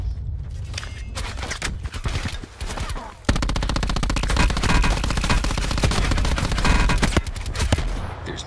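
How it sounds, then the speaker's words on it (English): Rapid automatic gunfire from a video game shootout, sustained bursts in the second half after scattered shots and a quieter stretch, loud and continuous with no talk. "Just shoot up that car, you'll blow him up."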